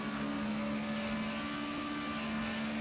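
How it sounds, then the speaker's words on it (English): A race car engine in sixth gear drones at a steady high pitch on board during a racing video game event at Indianapolis Motor Speedway, with constant wind-like roar and no talking. "Let's listen to his engine in 6th gear."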